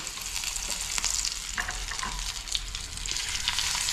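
Curry leaves crackling in hot oil for a tempering with dried red chilies and green chilies, a dense continuous sizzle with sharp spitting pops, close and loud, with no talking.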